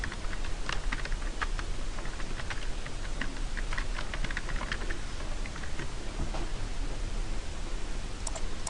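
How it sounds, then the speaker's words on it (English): Rapid typing on a computer keyboard while working in Illustrator, a steady stream of close, crisp key clicks with no talking. "in Illustrator I can go ahead and type in"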